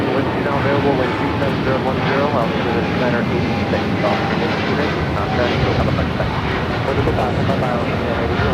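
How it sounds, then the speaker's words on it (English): An Austrian Airlines Boeing 777-200ER takes off from LAX bound for Vienna, its dense, roaring engine noise continuous and loud throughout, with a voice talking over it. "Flight heading back to Vienna, that 777-200ER."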